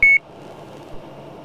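A short electronic autopilot disconnect tone sounds once at the start in an airliner cockpit on final approach, then gives way to a steady low cabin hum.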